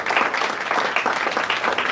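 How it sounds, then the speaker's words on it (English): Audience at a Sindhi Language Day celebration gives a steady round of applause, dense and continuous throughout, with no talk over it. "So please have a big round of applause for yourself."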